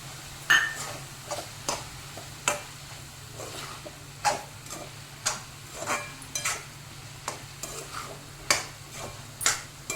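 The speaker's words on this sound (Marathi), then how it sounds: "चांगलं मिळून घ्या, परतून घ्या" Red amaranth greens being stirred and sautéed in a pan, with a regular series of light scraping taps from the spatula about once a second over a faint sizzle, close and quiet.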